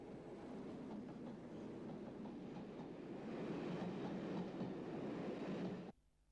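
Locomotive 37046 approaches Leamington Spa hauling a Reading to Liverpool passenger train, a steady rumble of wheels and engine that swells as it nears, then cuts off abruptly.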